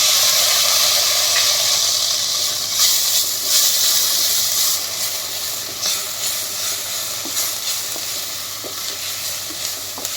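Onions and tomatoes sautéing in a pan for chaat, giving a continuous bright sizzle and hiss, close and fairly loud throughout, with faint stirring clicks and no voices.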